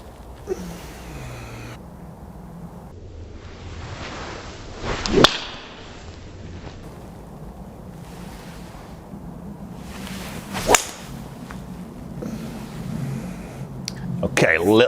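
A Cobra King F9 SpeedBack 3 wood strikes a golf ball a few times, each hit a short, solid, muted impact spaced several seconds apart over a bed of outdoor ambient noise.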